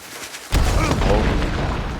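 A shotgun blast in the game Hunt: Showdown, one loud booming shot that cuts in sharply after quiet and rings out with a long, dense tail.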